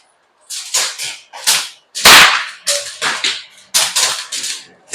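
Quiet air gun firing at an iguana sniper event, a run of about nine sharp, loud cracks spaced roughly half a second apart, each with a short tail, no talk over them.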